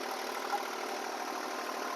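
A tractor engine runs smoothly under no load, a faint, even mid-pitched hum that stays constant without revving, with no voices.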